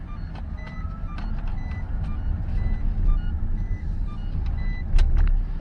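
Seatbelt warning chimes in a Toyota Proace Electric van sound as a series of short, evenly spaced beeps over a low cabin rumble while driving.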